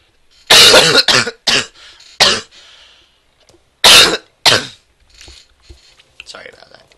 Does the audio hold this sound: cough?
yes